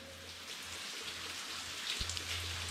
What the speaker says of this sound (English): Watching like the little bits of light come through and the rain drip down.